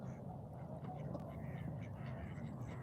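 Ducks quack in Inverleith Park, Edinburgh, in a continuous jumble of nearby calls over a dense, steady bed of outdoor noise, with people talking at the same time.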